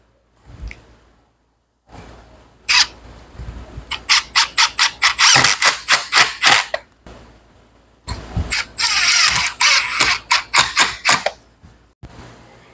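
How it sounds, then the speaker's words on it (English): A power driver sinks 3-inch screws fitted with washers into pallet wood. It fires in two runs of rapid, loud, clattering bursts with a short pause between them. "Now I'm going to take some 3-inch screws and a washer and just screw the parts together."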